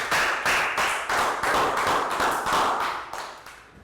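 A round of applause from a Year 3 maths class, many hands clapping together in a dense, steady patter that lasts several seconds before easing off slightly near the end.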